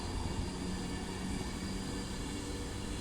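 Train rumbling through Stafford station on the West Coast Main Line, a steady broadband roar with no breaks, loud and near throughout.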